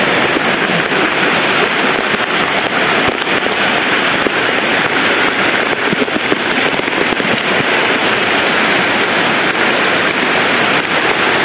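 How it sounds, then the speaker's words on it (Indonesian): Heavy rain pours down during a flood in Makassar, making a loud, dense, unbroken roar of drumming drops that stays steady throughout. "Hujannya deras banget soalnya."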